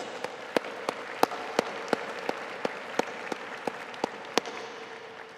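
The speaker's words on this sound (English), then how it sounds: "Please join me giving them a round of applause." Audience applause at a Heinz College diploma and awards ceremony: a steady wash of many hands clapping, with sharp, distinct claps standing out at a regular beat above it, sustained throughout at moderate volume.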